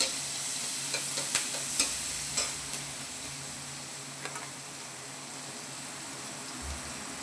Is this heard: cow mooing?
no